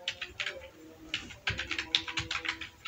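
Computer keyboard typing while writing code, a run of quick close key clicks in irregular bursts, with faint speech underneath.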